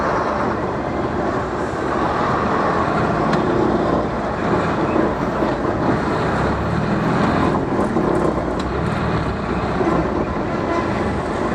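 Heavy road traffic at night near Chennai, a dense continuous rumble of engines and tyres with lorries nearby, loud and steady throughout with no speech over it.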